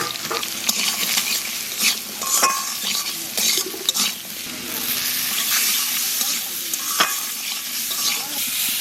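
Cut potatoes fry in oil in a pan, a constant sizzle broken by repeated scraping and clinking strokes of a spatula stirring them, close and fairly loud.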